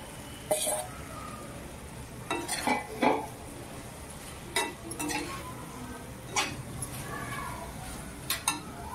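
Mixed vegetables for a mix veg bhaji tipped into a pan and stirred, with scattered spoon clinks and scraping strokes coming in short, irregular bursts at close range, no talk.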